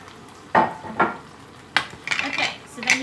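Campanella noodles, corn and corn sauce being stirred in a pan, with several scraping clatters of a utensil against the pan and a soft sizzle between them, close and fairly loud.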